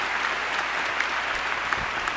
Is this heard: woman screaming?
no